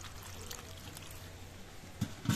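Cut potatoes and an eggplant are washed with water: a soft trickle and pour run quietly throughout, ending in two brief splashes.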